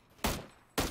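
Two loud, close gunshots in a crowded battle royale match, evenly spaced about half a second apart, each a sharp burst with a short decay and no talk over them.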